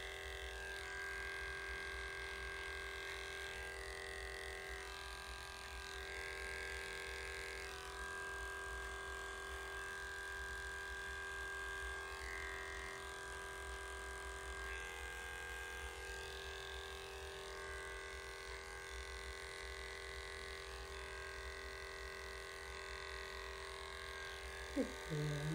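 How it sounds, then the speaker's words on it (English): Heiniger electric dog clipper fitted with a 40 blade trimming the paw pads of a Yorkshire Terrier, a faint, steady motor hum that continues without pause and changes pitch only slightly as the blade works. "Using my Heininger clipper, going to clipper the pads of the feet with a 40 blade."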